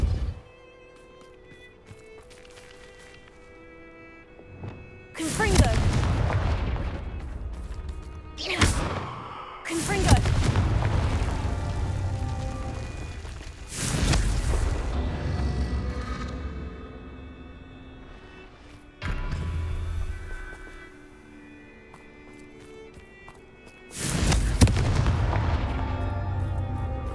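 Repeated Confringo fire-spell blasts from Hogwarts Legacy, loud booming bursts arriving every few seconds over a steady low rumble of game ambience.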